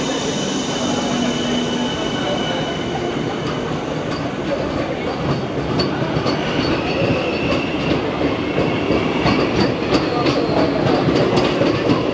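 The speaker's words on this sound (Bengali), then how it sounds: "আমাদের সামনে এবার ট্রেন আমাদের চলে যাবে তার নিজের গন্তব্য রানাঘাট স্টেশনের দিকে।" An air-conditioned local train on the Sealdah–Ranaghat line in West Bengal pulls away from a station toward Ranaghat, with continuous rumbling, rolling wheels and a growing clatter of the carriages passing close by.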